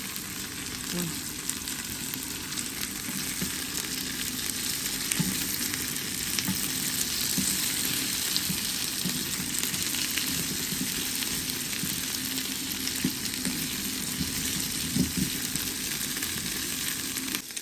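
Plain white okra with garlic fries in a hot pan, a loud continuous sizzle lasting throughout with occasional stirring scrapes, close up and steady, no one speaking.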